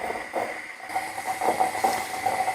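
Coffee coming to a boil in a pot, a steady close hiss with soft bubbling pulses throughout, no talking.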